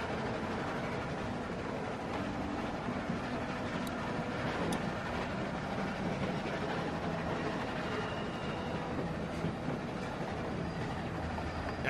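Train rolling along rails in The Walking Dead season 1 video game, a steady continuous low rumble with faint rhythmic clatter, moderately loud and unbroken, with no talk over it.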